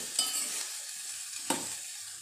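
Onion sabji with green chilies fries in a pan as it is stirred, a steady close sizzle with two sharp scraping strokes of the spoon.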